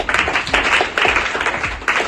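Students at a primary school program clapping together in a steady rhythmic round of applause, loud and close, with the beats in regular bursts.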